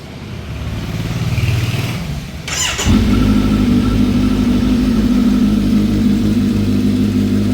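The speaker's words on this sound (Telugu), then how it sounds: "చలో ఒకసారి అయితే నేను మీకు ఇది స్టార్ట్ చేసి చూపిస్తాను బైక్" A Kawasaki Z900 fitted with an Arrow slip-on exhaust starts up after a brief crank and then settles into a loud, steady, close idle with a deep, even burble.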